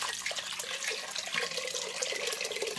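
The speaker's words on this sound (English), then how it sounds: "You fill the cooking pot with water." Water pours steadily from a tap into a pot, a continuous splashing hiss with a rising, hollow resonance as it fills; no speech.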